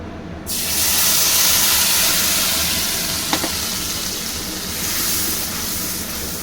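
Spice paste poured into hot oil and frying in a pan for doi ilish, a Bengali hilsa fish curry in yogurt. It starts as a sudden loud hiss and settles into a broad, steady sizzle that lasts throughout.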